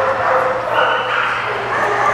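A dog at a pet expo in Ottawa yips and whines continuously at close range, a steady run of high, excited vocalizing with no pause.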